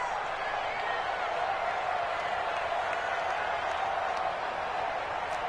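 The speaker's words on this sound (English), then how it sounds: "the crowd getting into it as we come up on a big 3rd down" Steady broadband crowd roar and cheering in an American football video game as a big third down approaches, a continuous even wash of noise throughout without clear breaks.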